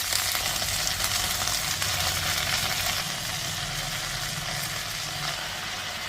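Fresh mint leaves frying in oil over a medium flame while being stirred, a steady close broadband sizzle that holds evenly throughout with no talking.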